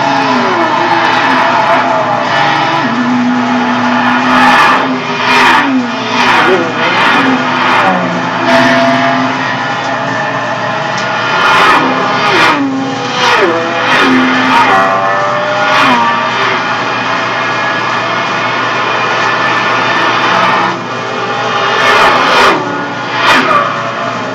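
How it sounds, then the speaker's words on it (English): A car drifting in the Gran Turismo video game, its engine loudly revving, rising and falling in pitch throughout with short interruptions between bursts. "About to do a lot of intentional drifting."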